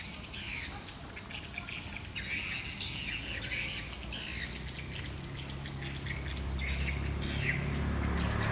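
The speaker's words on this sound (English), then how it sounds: "We can hear the swifts as always." Swifts calling around a nesting roof in Kampot's old town, faint high chirps and twittering in repeated bursts over a constant low street hum, with no talking.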